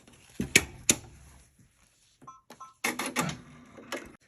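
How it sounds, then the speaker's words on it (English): An embroidery machine sews a satin stitch on a felt cuff for an in-the-hoop dome holder, producing sharp mechanical clicks and then a denser burst of rapid stitching whir, heard close in a quiet room without talk. "now I'll send it back, and it'll do the satin stitch."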